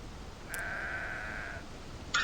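A single sheep bleat from the Sudeki video game, a steady nasal tone lasting about a second, fairly clear over a low background hum, with a brief bright sound near the end.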